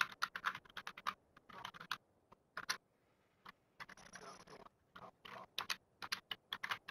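Bursts of quick clicking keystrokes on a computer keyboard as a code is typed for an ARK game on PS4, irregular clusters of taps with short pauses, fairly close and alone.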